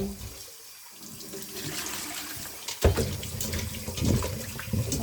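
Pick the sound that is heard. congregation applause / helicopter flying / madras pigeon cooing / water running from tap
water running from tap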